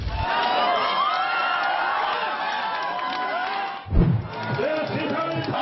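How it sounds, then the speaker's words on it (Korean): Supporters cheer and shout at a rally during the 2012 South Korean presidential election, a thick mass of voices that holds steady, dips briefly near the end, then swells again. "지지자들의 환호와 함께"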